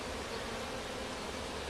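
Honey bees drone in a dense, continuous hum around an open hive being split, close and steady with no voices.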